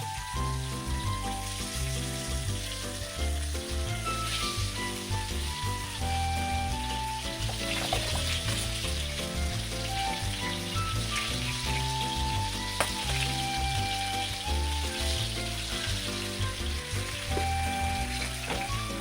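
Fish sizzles and fries in a lightly oiled hot pan in a home kitchen, a steady, dense crackle and spatter running continuously and close with faint background music-like tones.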